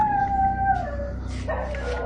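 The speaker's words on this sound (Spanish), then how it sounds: "se oye que están ladrando los perros muy feo" Dogs howling and yelping in the middle of the night, a long wavering howl followed by overlapping higher yips and cries, fairly near and carrying over a steady low background rumble.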